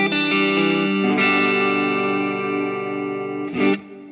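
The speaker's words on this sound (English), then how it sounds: "It's a very slow and subtle modulation that sometimes just helps biggin up and fatten up the sound of the reverb" A sustained, harmonically rich synth-like tone through a TC Electronic Plethora X5 shimmer reverb, lush, with a gentle, slowly wavering modulation shimmer, swelling briefly near the end before fading.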